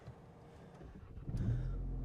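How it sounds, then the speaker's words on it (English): A VW Polo GTI engine turns over and catches, rising into a low, steady idle rumble that grows louder toward the end. "let's start the car and just feel the ride"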